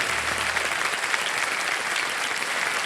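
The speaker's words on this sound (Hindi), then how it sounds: "एक बार फिर जोरदार तालियां बजाएं इनके लिए।" Studio audience on the TV quiz show KBC claps in a dense, even wash of applause sustained for about three seconds, moderately loud and with no voice over it.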